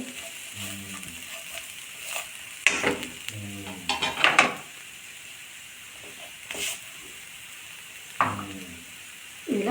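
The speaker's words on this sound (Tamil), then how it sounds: "கொஞ்சம் அந்த பச்சை வாசனை போகிறதுக்காக வறுத்துட்டு" Vegetables for veg cutlets fry in a pan, a soft sizzle running beneath bursts of stirring and metal utensil scraping against the pan, close and fairly quiet, with no voices.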